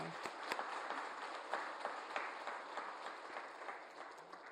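A church congregation applauds during a Sunday morning service, a sustained patter of many hands clapping at moderate distance, fairly soft and even throughout.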